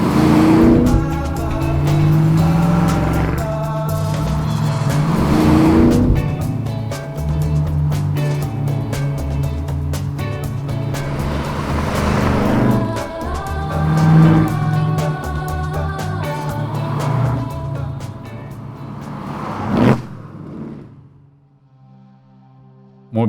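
A Holden Torana muscle car engine rumbles loud and close as the throttle is pushed, its deep revving tone rising and falling through the drive before easing off near the end.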